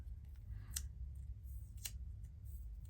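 Scissors trim craft material for Christmas bags, giving two faint, brief snips about a second apart over a quiet background hum.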